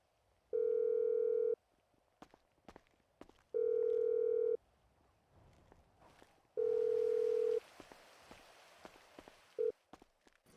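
Three long steady dial-tone beeps followed by a short fourth blip from a phone call being placed in the video game GTA, with faint footsteps and soft background noise between the tones.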